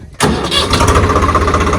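A Swaraj tractor's diesel engine cranks and catches, then settles into a loud, steady, chugging idle up close.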